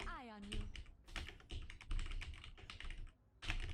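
Rapid clattering keystrokes on a computer keyboard during an online Zarya game session, dense and close, with a brief pause before a final burst of typing; faint game sounds sit underneath.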